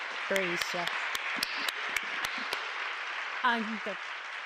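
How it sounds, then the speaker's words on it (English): Attendees at an online women's workplace wellbeing panel applaud the panelists, a light, thin patter of clapping running under a speaking voice heard at the start and again near the end. "Let's give a round of applause to our amazing panelists."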